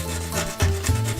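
Sandpaper rubs across the sharp tip of a handmade icicle in a brief, steady rasping scrape lasting about a second, close and moderately loud over a faint low hum.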